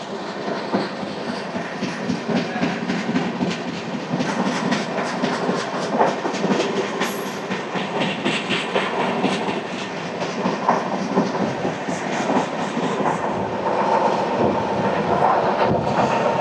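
Samata Superfast Express train running at speed from Visakhapatnam, filled with a loud continuous roar and steady clickety-clack of wheels on rail joints, heard from on board throughout.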